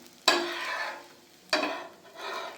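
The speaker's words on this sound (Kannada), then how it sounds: "ಸ್ವಲ್ಪ ಎಣ್ಣೆ ಹಾಕ್ತಾಯಿದ್ದೀನಿ. ಬೆಂದಿರೋ ಸಾಕು. ಈ ಥರ ಬೆಂದಿದೆ, ತಿರುಗಿಸ್ತಾ ಇದ್ದೀನಿ." An egg omelette fries in oil in a pan and is flipped, giving two sharp sizzling bursts that each fade into a softer crackle, followed by a gentler swell of sizzling, with no talking.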